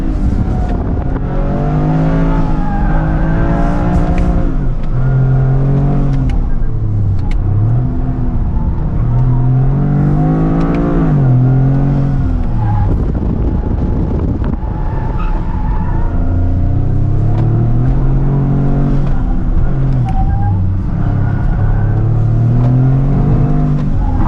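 A car held in first gear accelerates hard, its engine revving loudly with rising and falling pitch as it pulls, tires briefly squealing, the roar close and continuous throughout.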